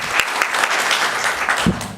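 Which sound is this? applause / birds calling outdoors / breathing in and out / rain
applause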